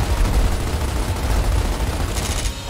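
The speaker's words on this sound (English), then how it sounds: "I'm shooting the fucking wall." Rapid automatic gunfire in the video game Gears of War Ultimate Edition as a wall is shot at, a dense continuous fusillade with heavy low-end rumble, loud and sustained, easing slightly near the end.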